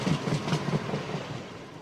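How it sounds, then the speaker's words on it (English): A train rumbles past with rhythmic clickety-clack of wheels on rails, loud at first and easing off over a couple of seconds. "Here's a train that whistles by."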